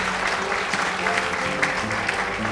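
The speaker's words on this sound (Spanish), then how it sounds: "Los saludamos, los recibimos con un fuerte, muy fuerte aplauso" A crowd claps loudly and continuously to welcome a group of visiting university students, dense and close, with some murmuring underneath.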